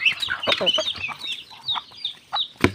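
Backyard chickens clucking in a rural province yard, a close flurry of rapid clucks and squawks with quieter calls trailing off and a sudden thump near the end.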